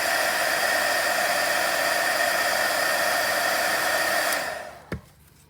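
Heat tool blowing hot air to shape sculpting foam flowers, a steady loud whooshing whir running for over four seconds, then switching off and winding down, with one short knock just after.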